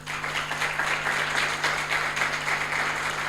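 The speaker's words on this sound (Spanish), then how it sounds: "les quiero pedir un fuerte aplauso" An audience at a university panel event applauds steadily in a dense wash of claps at even loudness, with a faint steady hum underneath.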